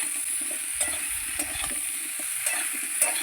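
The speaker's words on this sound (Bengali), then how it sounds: "লবণ হলুদ দিয়ে ভালো করে ভেজে নেব" Kohlrabi pieces fry in oil with salt and turmeric for a catla fish curry. A close, steady sizzle runs throughout, with light stirring scrapes and small pops and no voices.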